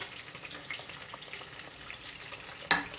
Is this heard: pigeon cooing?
no